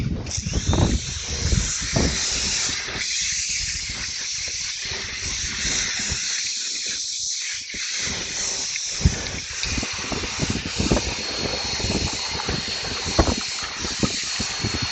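A steady, loud hiss of pressurized water spray rinsing a car and its tires, continuous for the whole stretch with brief bursts and splashes where the jet strikes different surfaces.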